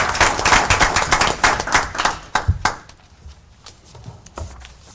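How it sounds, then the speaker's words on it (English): A room of people at a Starkville city board meeting clap for Mr. Adams, loud and dense at first, then thinning into a few scattered claps, near and without speech. "let's give him a round of applause."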